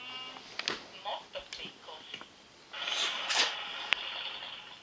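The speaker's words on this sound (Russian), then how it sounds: "Это овца." A sheep bleats in a few short, close calls amid clicks and scattered game-like sounds, with a brief burst of noisy activity near the end.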